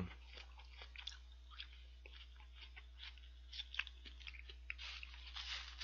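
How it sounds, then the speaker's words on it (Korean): Crunchy onion being chewed in a McDonald's 1955 burger, quiet close crisp crunches and bites repeating irregularly, with no talk. "양파가 아삭아삭하다."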